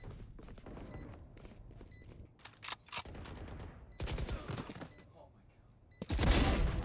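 Bursts of gunfire in Valorant during a competitive esports match, several sharp volleys of rifle shots and a loud final burst, heard under excited commentators talking.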